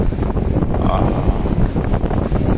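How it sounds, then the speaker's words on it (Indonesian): Strong storm wind buffets a camera on Gandoriah Beach, a loud, continuous rumbling roar with gusty swells that fills the whole stretch, with surf and waves churning beneath it. "kamera ditendangnya juga oleh angin ini."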